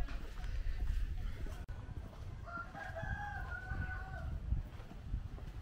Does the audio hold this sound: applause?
no